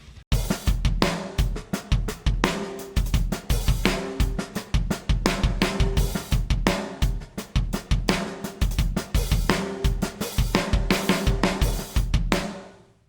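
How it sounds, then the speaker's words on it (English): A produced drum kit plays a steady groove for about thirteen seconds, loud and continuous, with hard punchy hits and a roomy, open ambience. "I like my drums usually to sound like this"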